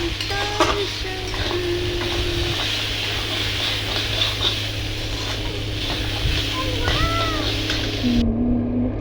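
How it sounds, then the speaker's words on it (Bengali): Potatoes and onions are stir-fried together in a pan, giving a loud, continuous sizzle over a low hum. Frequent clinks and scrapes of a utensil against the metal come through, and the sound cuts off abruptly near the end. "আলু আর পেঁয়াজ একসাথে দিয়ে দিলাম। এবার এটাকে নাড়াচাড়া করবো।"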